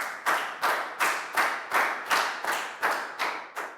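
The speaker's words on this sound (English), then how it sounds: "And a big round of applause for everybody doing a great job." Rhythmic group clapping from a school class, roughly ten evenly spaced claps in a steady beat, moderately loud and close, with no talk over it.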